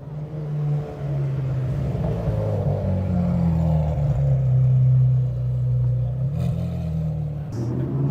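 A low-slung McLaren Senna supercar passes close by, its engine a deep steady rumble that swells and eases over several seconds, loud and near, with faint street sounds around it.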